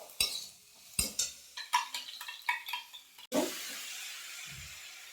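A few sharp clinks and taps of a utensil on a pan, then beaten egg hits the hot pan with Maggi noodles and bursts into a steady, fairly quiet sizzle that carries on to the end.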